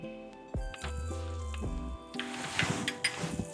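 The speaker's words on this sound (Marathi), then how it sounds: "आता पॅनमध्ये थोडंसं बटर घाला" A small pat of butter hits a hot frying pan and sizzles, starting as a soft hiss with crackles and pops that grow busier as it melts. The pan is being readied for boiled broccoli and carrots.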